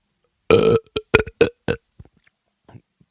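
A long, wet belch up close, followed by a series of shorter gulping burps trailing off into quiet.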